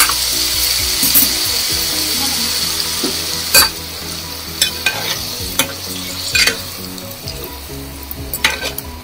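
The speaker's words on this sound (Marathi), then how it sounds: "आता ह्याच्यात ना आपण पाणी घालून घेऊया." Onion masala for a shark (mori) fish curry sizzles steadily in the pan as water goes in. A spoon stirs with sharp intermittent clacks over the constant frying hiss.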